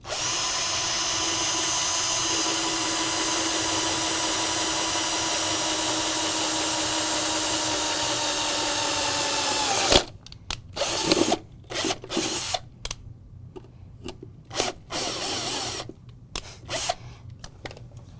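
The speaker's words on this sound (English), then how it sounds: "let's drill some holes" A power drill bores holes through a panel whose inside is made of wood, giving about ten seconds of steady, loud whirring before it breaks into short, irregular bursts and stops.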